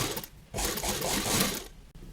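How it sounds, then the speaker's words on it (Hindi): A sewing machine runs close up along the side edge of a kurti in one steady burst of about a second and a half, with a brief pause near the start and no talk. "अब हम यहाँ किनारे सिलाई लगाएंगे।"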